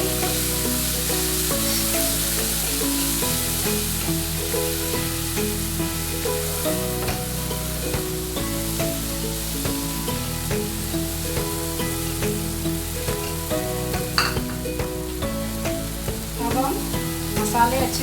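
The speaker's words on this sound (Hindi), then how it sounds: "मसाले अच्छे से भून चुके हैं।" Ground spices such as red chilli and turmeric fry in a pan for a mixed vegetable curry, making a loud, continuous sizzle with crackles and occasional stirring scrapes and no talking.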